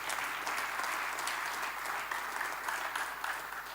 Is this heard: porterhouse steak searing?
no